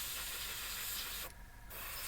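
An airbrush sprays paint onto a Tamiya de Havilland Mosquito B Mk IV scale model, giving a close, steady hiss that breaks off briefly in the middle and then resumes.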